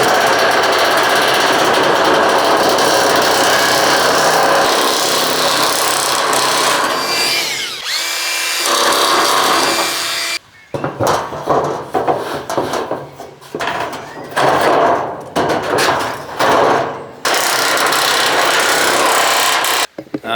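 A power nibbler cuts through metal sheet for a rat-proof compost bin, first in a long loud continuous chattering grind and then in choppy bursts that start and stop near the end.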